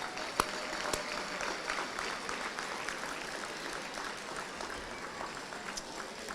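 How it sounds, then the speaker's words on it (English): Applause for sponsors at a Teacher of the Year ceremony, a soft, distant, steady patter of many hands with a couple of sharper claps near the start. "Let's give them all a round of applause."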